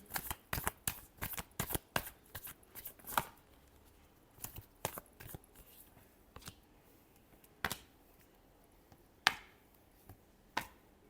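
A deck of tarot cards being shuffled by hand up close: rapid bursts of crisp riffling and slapping, clustered at first, then sparser single snaps spaced out over the rest.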